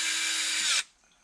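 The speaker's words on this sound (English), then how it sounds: "Be careful using a torque driver, guys, like this." A torque driver whirs steadily for under a second while tightening screws on a Traxxas Rustler 4x4 differential, then cuts off abruptly to near silence.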